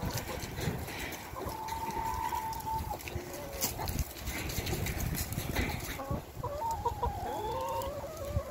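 On a farm, chickens cluck repeatedly at moderate distance, with short calls scattered through steady outdoor background noise.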